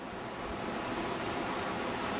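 Surf at dusk as waves roll in through shallow water toward a beach, a steady close rushing wash with some wind noise on the microphone.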